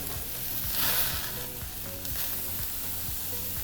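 Pieces of meat fry in a hot pan with a steady, crackling sizzle that holds close and constant for a few seconds, with no voices over it.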